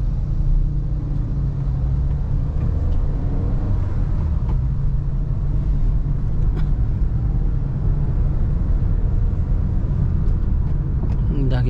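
A Honda Brio with a manual gearbox pulls away and accelerates through the gears on a town drive in Madiun, its steady engine and road rumble filling the cabin at close range, with a voice speaking over it.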